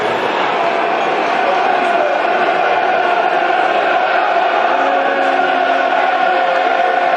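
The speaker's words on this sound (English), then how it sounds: "Crowd trying to get behind the Lions, dear listeners." Football crowd at Millwall's home ground urging on the Lions during a match against Reading, a steady, dense roar of massed voices and cheering that holds throughout without a break.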